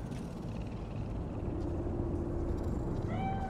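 A cat meows a few times in Cyberpunk 2077, short rising cries near the end over a steady low ambient city hum.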